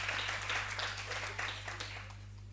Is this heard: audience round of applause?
yes